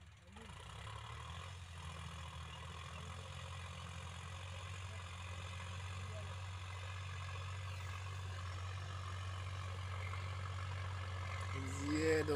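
A Sonalika DI RX 35 tractor with a cultivator loaded with fertilizer sacks reversing in a field, its diesel engine droning low and steady up close, rising slightly toward the end.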